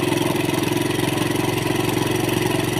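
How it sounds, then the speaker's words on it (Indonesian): A Suzuki Thunder 125 motorcycle engine with a hard-starting problem runs close and loud during carburetor air-screw adjustment, holding a steady, rapidly pulsing idle throughout. "Kita berhenti pada saat putaran mesin makin tinggi ya bosku."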